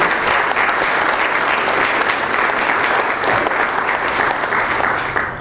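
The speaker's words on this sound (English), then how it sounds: "Give yourselves a round of applause for being here." A dense, steady round of applause from an audience fills the whole stretch at an athletics leadership gift ceremony, loud and continuous before tapering slightly at the very end.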